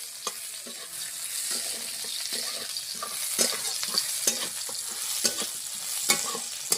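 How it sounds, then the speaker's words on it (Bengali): Onion, ginger and garlic fry in a pan with a steady close sizzle, while a utensil stirs and scrapes through them in repeated clicks and knocks. "এই দেখো পেঁয়াজ আদা রসুন ভালোভাবে আমার ভাজা গেছে"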